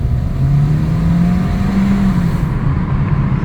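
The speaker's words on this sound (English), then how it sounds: "You can hear the compressed air blowing right out someplace on this thing." A 2014 Ford Escape with the 1.6 EcoBoost engine and a turbo boost leak runs with a steady loud engine drone and a hissing rush of escaping compressed air, continuous throughout.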